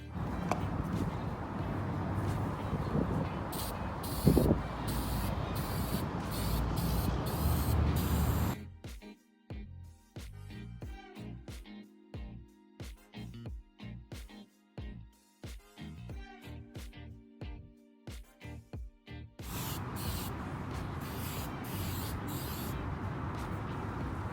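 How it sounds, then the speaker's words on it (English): A Rust-Oleum spray paint can hisses in long continuous sprays painting a wooden cage, broken midway by a stretch of short, rapid bursts before the steady spraying resumes. "getting the outside of the cage painted with this Rust-Oleum spray paint"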